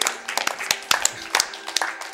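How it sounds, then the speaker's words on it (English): A small audience at a speedrunning event claps for the runners, sparse uneven claps near and far with a few voices murmuring underneath. "Big applause"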